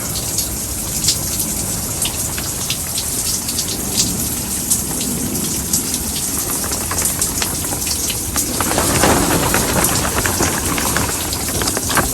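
Water spraying from the watering system inside a mini orchid greenhouse, a dense, continuous hiss like steady rain pattering on leaves and surfaces, loud and close, swelling slightly near the end with no talking.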